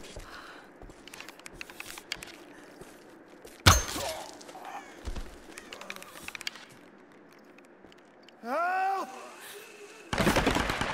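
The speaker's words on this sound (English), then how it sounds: "She's shooting at us." Gunshots in the 2013 Tomb Raider video game ring out as sharp, separate cracks amid footsteps and scuffles, with a louder burst near the end and a voice calling out partway through.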